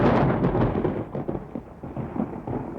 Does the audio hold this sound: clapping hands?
no